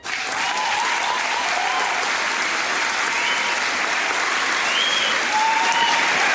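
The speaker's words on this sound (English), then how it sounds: "the chamber explodes into a riot of applause and condemnation" A packed senate chamber erupts in sustained applause mixed with scattered shouts of condemnation, the clapping swelling quickly and staying loud and even, with voices rising over it.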